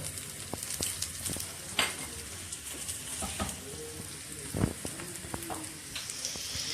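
Mooli paratha frying in oil on a pan gives a steady crackling sizzle with scattered louder pops, close and alone with no talk.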